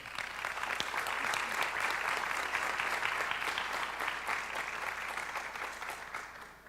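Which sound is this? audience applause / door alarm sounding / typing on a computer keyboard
audience applause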